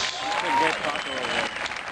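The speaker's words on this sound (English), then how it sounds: "Give yourselves a big round of applause." Comedy club crowd at a casino show applauds, a loud wash of clapping and cheering that swells briefly then holds steady to the end.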